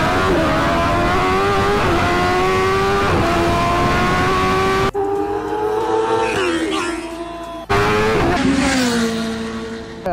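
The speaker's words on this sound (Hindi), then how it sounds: "मैं अभी फ्लाई बाई रिकॉर्ड करने के लिए आ गया हूँ यार S1000 RR की और उस गाड़ी की" A BMW S1000 RR and a Kawasaki H2R superbike making close fly-bys, loud high-revving engine wails that rise and fall with gear changes, one machine after another sweeping past near the listener.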